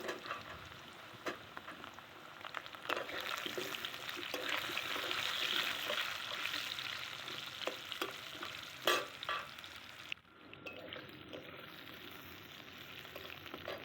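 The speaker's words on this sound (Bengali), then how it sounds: "তারপর যে কয়েকটা আলু দিয়েছি, আলুগুলো আগে দিয়ে দিচ্ছি। আলুটা প্রথমে একটু নেড়ে নেব।" Potatoes stirred and fried in a pan with cumin and bay leaf. Steady sizzling runs under repeated scraping strokes of a spoon, close and fairly quiet, and the frying drops briefly near the end.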